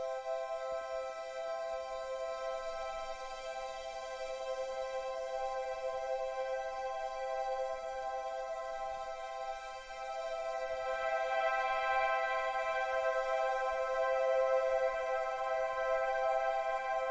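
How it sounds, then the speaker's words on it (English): Continua virtual analog morphing synth on iOS holds a sustained, buzzy harmonic tone; partway through, a third oscillator is brought in, thickening the low end with added bass while the note continues steadily at moderate volume. "So very easily I added some bass to that just by going to this third oscillator"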